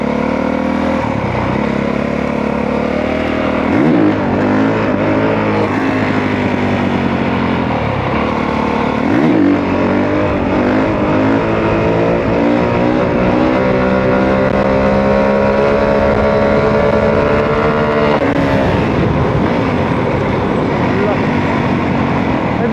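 A 2022 Honda CRF 450R dirt bike engine revs loud and close during a ride, pitch climbing and dropping through repeated throttle bursts before settling into a sustained high drone.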